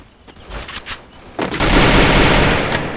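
Heavy automatic gunfire in a battle royale video game, a few scattered shots first, then a loud sustained burst of rapid fire that fills the rest of the moment, no talking.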